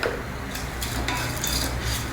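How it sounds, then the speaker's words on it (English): Dals and spices with a cube of hing roast in a pan while being stirred, a steady close scraping and clinking of utensil on metal over a low, faint sizzle, with no voice. "roast all the spices together"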